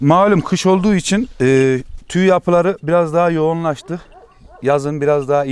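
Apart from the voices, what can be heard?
None of the usual background noises is heard.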